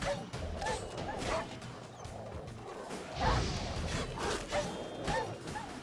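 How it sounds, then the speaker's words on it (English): Dogs in The Witcher 3 video game bark and yip repeatedly in short bursts over game sounds, with a crashing hit around the middle and some speech-like voices mixed in. "Why are these freaking dogs?"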